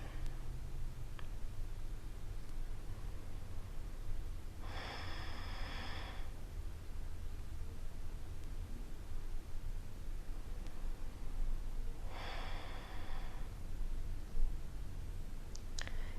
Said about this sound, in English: give yourself some nice deep breaths